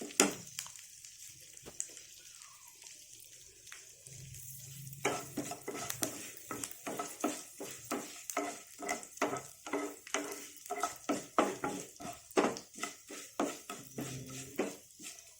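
Sesame seeds crackle while roasting in a pan for a cucumber-brinjal sesame chutney, a steady dense sizzle with rapid popping and spoon stirring strokes, close and continuous.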